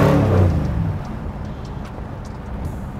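A 900-horsepower supercharged LSX V8 in a custom 1956 Pontiac Star Chief revs loudly up close, then eases back into a deep, steady rumbling idle.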